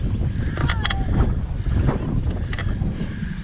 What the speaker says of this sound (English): it's getting windy, huh?